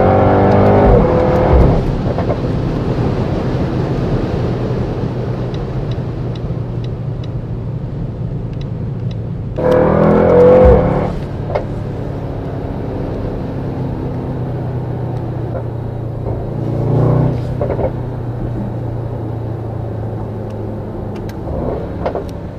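A 2020 Mercedes-AMG GT 4-Door Coupe, GT63S or GT53 with 4MATIC, rumbles at idle with its exhaust, then blips the throttle in short revs near the middle and again later, loud and close with no speech.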